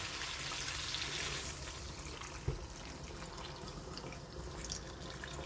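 Hot water poured into a pan of fish curry with winter vegetables, a steady, close, rushing pour with no talking.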